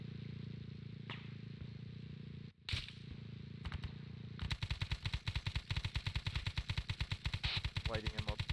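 Arma 3 gunfire from a Vietnam-era SOG Prairie Fire mission: a few scattered shots, then a sustained rapid automatic burst, loud and close.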